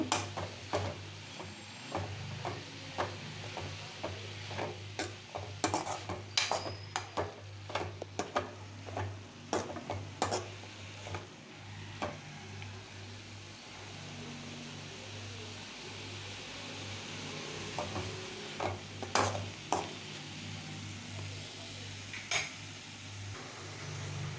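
Cabbage poriyal, wedding-feast style, gets stirred in a pan over a low flame, with repeated metal spoon scrapes and clinks against the pan above a soft steady sizzle, close and continuous, with no talking.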